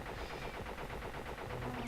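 Faint, rapid gunfire from Crash Bandicoot rattles steadily with no pauses, with no talking.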